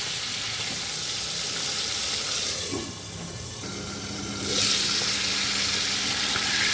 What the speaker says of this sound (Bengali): এইভাবে আমি চিংড়ি মাছগুলো ছেড়ে ভেজে নেব, ভালো করে ভেজে নেব।